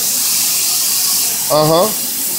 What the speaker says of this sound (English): Spray the water.